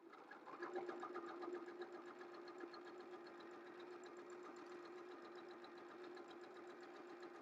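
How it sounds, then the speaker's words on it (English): Sewing machine stitching a seam, a fast steady mechanical hum with rapid needle ticking, running continuously and close, with no talking. "I'm going to back stitch, and then we're just going to stitch this one seam up."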